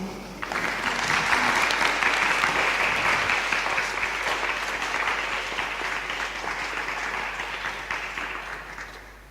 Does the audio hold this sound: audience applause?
yes